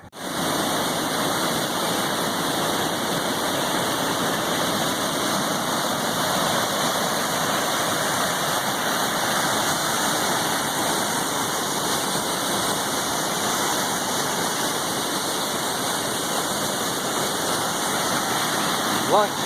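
Steady, loud rush of a waterfall beside an Appalachian Trail lunch spot, a continuous broadband roar with no breaks for the full length.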